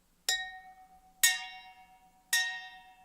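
A bottle with liquid inside is struck three times at about one-second intervals, each sharp tap ringing with a clear, fairly deep tone that fades slowly.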